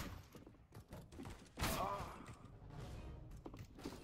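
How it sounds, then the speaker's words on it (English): Counter-Strike: Global Offensive gameplay with bursts of gunfire and thuds, one sharp loud shot standing out, mixed with a player's voice talking over the action. "Who's ever shooting me?"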